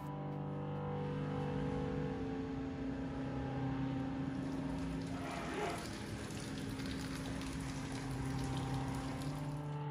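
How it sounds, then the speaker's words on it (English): Cold water runs from a hose into a sink and drain in a small batch pasteurization setup, a steady continuous rushing hiss with a low hum underneath, unbroken throughout. "start the cold water flow. Open the bottom of the sink and start running water to the drain"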